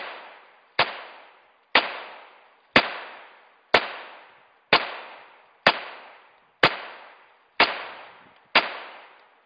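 A Smith & Wesson 22A-1 pistol fires CCI .22 ammunition, nine sharp, loud shots at an even pace about one second apart, each trailing off in a short echo.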